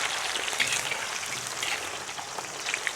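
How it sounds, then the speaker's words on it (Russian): Mushrooms, meat and onion frying fast at high heat in a kazan over a campfire, a dense continuous sizzle with crackling pops, steady and close throughout. "Мы сейчас все наши продукты вот так обжариваем быстро"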